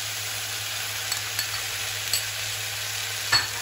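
Vegetables and sausage being stir-fried in a wok with red chili sauce, schezwan sauce and tomato ketchup, a steady close sizzle with a few soft scrapes of stirring, no voices.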